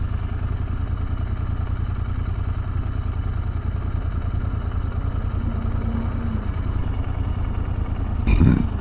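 A motorcycle engine rumbles steadily nearby, a low throbbing idle-like drone under light wind, ending with a short louder rev and swell.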